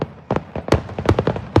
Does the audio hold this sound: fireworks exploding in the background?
yes